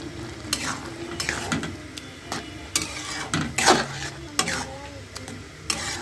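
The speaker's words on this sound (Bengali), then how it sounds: "চিনিটা ভালো মতো মিশিয়ে নিচ্ছি।" Sugar is stirred into halwa cooking in a pan, with repeated scraping strokes of the spoon over a low sizzle, irregular and close, punctuated by occasional sharper knocks.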